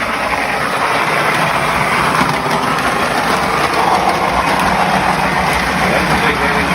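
A Lionel model diesel switch engine pulls a train with its wheels slipping, giving off a continuous loud electric whir and rolling rumble that holds steady throughout without speech.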